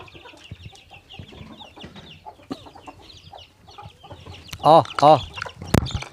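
Chickens and chicks in a small farm enclosure cluck and chatter while eating garlic, with soft scattered clucks building to two loud, close bursts of squawking near the end.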